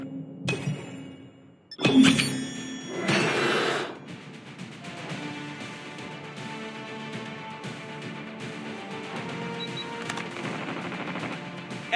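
Gunfire in Call of Duty Mobile: rapid automatic bursts and single sharp shots, loud and close, with brief pauses between volleys and game effects in between.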